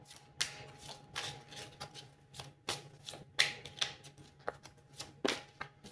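Oracle cards are shuffled by hand in a quiet room, giving soft, repeated riffling and slapping bursts at an irregular rhythm, faint and close up, with no voices.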